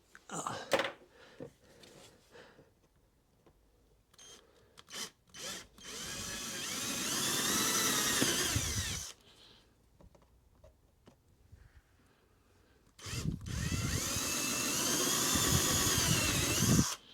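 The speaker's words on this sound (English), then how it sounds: "I need to use a 8 millimeter drill. Let's drill those holes." An 8 mm bit drills holes for arm bolts on a Yamaha Tenere 700 rally tower build, two sustained whining bursts of several seconds each, close and loud, with short clicks and handling noises between them.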